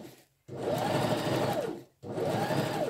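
A sewing machine stitches along a single welt pocket on a coat or jacket in two steady runs, with a short pause between them. The whirring is close and continuous, and no one speaks.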